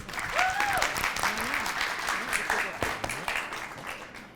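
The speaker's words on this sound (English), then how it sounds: "a big round of applause for Elisha" An audience at an evening talk on unconscious bias in hiring breaks into steady applause, a moderately loud, dense clatter of hands with a few voices calling out over it.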